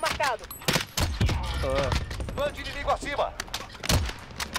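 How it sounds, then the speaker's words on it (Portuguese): Gunfire in the battle royale video game Call of Duty Warzone, repeated sharp shots and bursts scattered through the clip while players talk over it. "Atiraram mesmo, agora atiraram mesmo."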